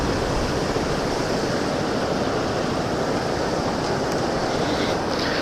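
Heavy spray and rushing water from the open Mettur Dam spillway fill the scene with a loud, steady broadband roar, a constant hiss of falling water and wind that stays unbroken with no voices.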